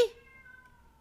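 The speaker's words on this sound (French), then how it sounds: "ce chat qui miaule" A cat gives a single short, clear meow that trails off quickly, fairly close in a quiet indoor room.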